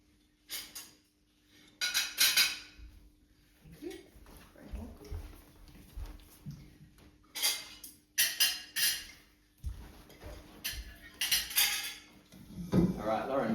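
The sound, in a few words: plates and cutlery being handed back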